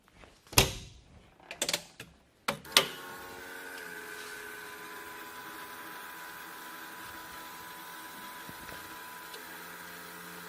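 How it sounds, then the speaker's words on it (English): A skid steer's electric fuel pump priming the fuel system after a key turn: a few sharp clicks and knocks, then a steady, fairly quiet mechanical whir and hum that runs on alone. "nice to have an electric fuel pump"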